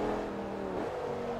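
An Audi R8 engine in the racing game Forza Motorsport 3 hums at a steady, fairly quiet drone, its pitch dipping slightly partway through, with no voices.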